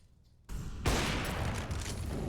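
Grenade explosion in the Counter-Strike video game, a sudden loud noisy burst that stays dense and sustained, heard alone after a quiet start.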